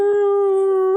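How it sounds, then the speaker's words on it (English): A dog howls in one long, steady, loud tone with rich harmonics, alone and close, lasting the whole second. "Bark for him."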